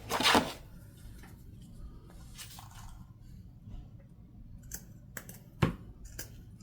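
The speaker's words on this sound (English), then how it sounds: "I also have this ribbon that I think would look nice down here at the bottom. So let's cut that" Ribbon is snipped with scissors in a quiet room, a sharp crisp cut at the start followed by a few fainter, scattered snips and handling sounds.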